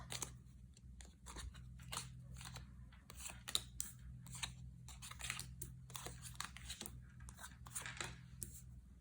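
Tarot cards are dealt into piles on a table, giving a series of soft, quick snaps and slides at an irregular pace over a low background hum, close and faint.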